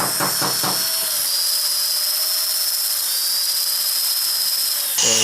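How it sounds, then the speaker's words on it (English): A 5mm bit drills into the center of a welded bolt, a steady high-pitched whine holding evenly for about five seconds after a few short clattering starts, loud and close with no talk. "So let's drill in the center using a 5mm drilling bit."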